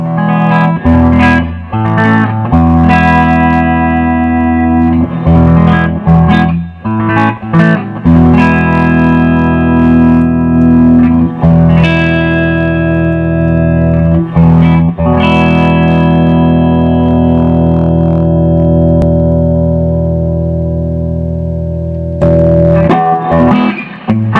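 Electric guitar played through a Fender Blues Deluxe tube amplifier just repaired with new filter capacitors, loud sustained distorted chords and single notes with reverb ringing out alone, pausing briefly between strums.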